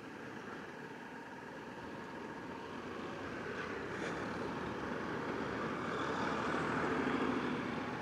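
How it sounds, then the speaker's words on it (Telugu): A tractor on a road rumbling along with a low, broad engine drone that builds gradually louder, heard from a passing bike. "Oh no, tractor."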